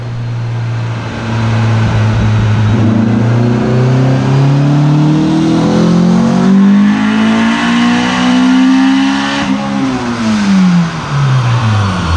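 A car engine revs hard on a dyno, running on 9.5 psi of boost with a slightly slipping clutch. The loud, continuous engine note climbs steadily in pitch for about ten seconds, then drops away sharply near the end, with no talk over it.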